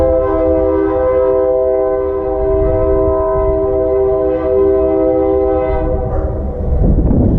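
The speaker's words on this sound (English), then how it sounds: "That was a train" A passing train blares a sustained, loud multi-tone horn over the deep rumble of rolling wheels, growing rougher near the end.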